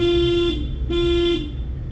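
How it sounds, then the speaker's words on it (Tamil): A car horn gives two short, light toots, each under a second, close and clear over the idling engine of a learner's car during a driving lesson. "லைட்டாக ஹாரன் அடிக்கணும்."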